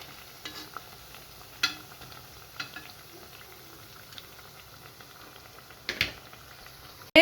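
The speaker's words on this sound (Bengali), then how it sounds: "এরপর আমি ডিম চপগুলোও দিয়ে দিয়েছি পেঁয়াজু ভাজার পরে।" Egg chops frying in hot oil: a quiet, steady bubbling sizzle broken by a few soft knocks and clinks of utensils, close by, with a louder bump at the very end.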